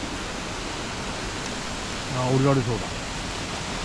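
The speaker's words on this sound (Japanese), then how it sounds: "こっちの滝の方が、 この滝の方がいいんだけど" Constant broadband roar of a waterfall on a Hokkaido mountain stream, loud and unbroken throughout, with someone speaking briefly over the rushing water.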